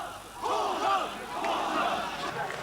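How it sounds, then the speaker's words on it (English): Large crowd shouting protest slogans at a line of soldiers, a dense wall of many raised voices swelling in two broad surges, loud and continuous without a break. "The air was filled with shouts of "Fascists! Stop killing!""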